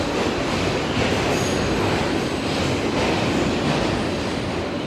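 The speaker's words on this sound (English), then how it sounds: "I'm in an empty train." Steady, loud rumble and rattle inside an empty moving subway train, with continuous wheel noise, faint squeal and clatter running through the whole stretch, no voices.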